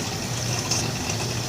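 Tap water runs steadily into a discus aquarium, a continuous close hiss of rushing liquid with no breaks, loud and unaccompanied.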